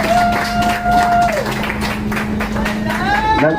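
Guests at a 25th wedding anniversary party clap along, a loud crowd applause mixed with music tones and voices talking over it.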